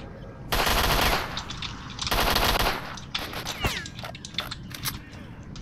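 Automatic gunfire from the video game S.T.A.L.K.E.R.: Shadow of Chernobyl comes in two loud bursts, each about half a second to a second long, followed by scattered quieter shots and clatter.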